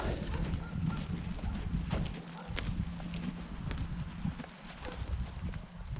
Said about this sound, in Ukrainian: Дуже файні коні